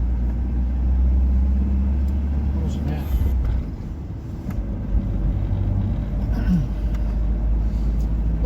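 A Polonez Caro Plus car drives along a town road, its engine and tyres giving a steady low rumble that continues throughout at close range.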